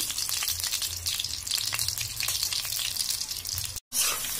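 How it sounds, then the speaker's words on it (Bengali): Potatoes frying in mustard oil for a meat dish, a steady close sizzle with occasional stirring and a watery hiss, cut by a short silent gap near the end. "তো আলুটা ভেজে উঠিয়ে রাখবো, ভাজা হয়ে গেছে আমার।"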